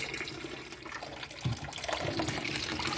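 Tap water runs steadily into a basin, a continuous splashing wash with a slight surge midway, fairly close and without any talk over it.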